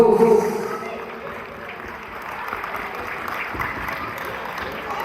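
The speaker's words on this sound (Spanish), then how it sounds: "Y los aplausos a los novios, fuertes, pero fuertes aplausos." Wedding guests clapping for the bride and groom at a village celebration, steady crowd applause, with a brief louder voice or tone at the start.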